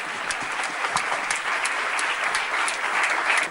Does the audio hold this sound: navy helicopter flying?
no